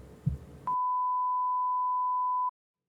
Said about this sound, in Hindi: अब जैसे ही आप टेस्ट ऑसिलेटर खोलेंगे तो ये आपको ये फ्रीक्वेंसी सुनाई देगी